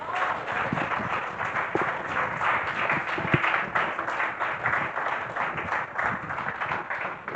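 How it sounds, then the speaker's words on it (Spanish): A church congregation claps steadily for the amen during a sermon, a dense, continuous patter of many hands at moderate distance lasting the whole stretch, with no talk over it. "Dale un aplauso si quiere al amén."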